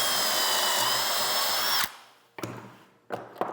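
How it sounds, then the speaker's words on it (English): Power drill boring pocket holes in wood trim with a Kreg Jig: a sustained loud high whine that cuts off abruptly, followed by two short bursts of drilling. "after I get done drilling these holes"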